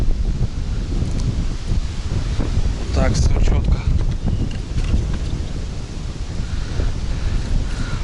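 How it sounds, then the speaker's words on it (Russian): Strong wind buffets the microphone at the water's edge where local fishermen's nets lie, a steady roar with rustling throughout, with someone talking briefly over it. "Блин, ветрище-то, ё-моё."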